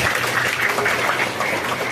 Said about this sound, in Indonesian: Berikan untuk tepuk tangan untuk bangsa kita